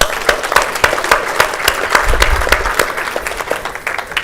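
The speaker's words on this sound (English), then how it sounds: "A little round of applause for these guys." A Rotary Club weekly meeting audience gives a short round of applause, scattered individual claps standing out sharply over a continuous crowd clapping that thins slightly toward the end.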